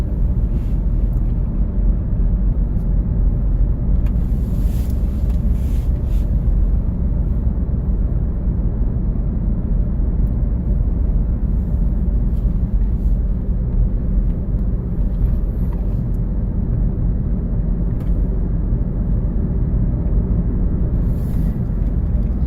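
A 2010 Toyota Prius coasting in neutral on battery power, giving a steady low road and tire rumble heard from inside the cabin, constant and unbroken, with no talk.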